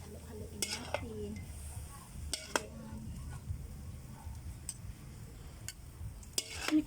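A spoon stirs food in a cooking pot, with scraping and clinking of utensil against metal and a faint sizzle underneath, interrupted by a few sharper knocks; brief voices appear near the start.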